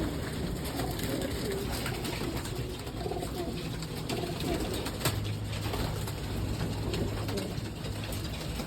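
Male racing pigeon breeders coo in soft, low, repeated calls from nearby. A wing flap or two and faint background noise come through a quiet loft setting.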